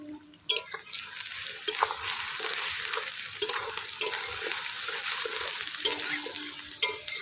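Onions frying in white refined oil for birista for chicken biryani, a busy crackling sizzle that swells after a brief quiet start, with repeated spatula knocks and scrapes against the pan.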